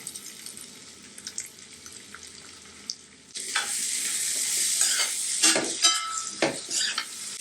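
Chopped medium onions dropped into a hot pan for butter chicken: a quiet faint sizzle first, then a sudden loud burst of frying with bursts of stirring and scraping close by.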